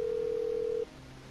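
A phone in Grand Theft Auto V emits a single steady electronic tone that holds for most of a second and then cuts off, leaving a fainter low hum.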